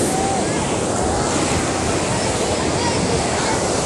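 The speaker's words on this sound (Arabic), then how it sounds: "شوفوا بقى على البحر" Sea waves wash continuously onto the beach at Gaza in a loud, steady roar, with wind buffeting the microphone and no pauses.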